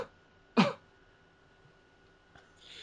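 One short, sharp cough sounds close by in a quiet room, followed by a faint click and a little low noise.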